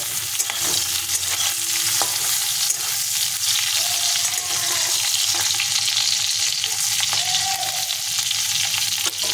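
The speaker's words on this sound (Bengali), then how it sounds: "প্রথমেই আমি চিংড়ি মাছটা ভেজে নিচ্ছি" Prawns fry and are stirred in a pan, giving a steady loud sizzle across the whole stretch with occasional scrapes and clinks of the spatula and no voices.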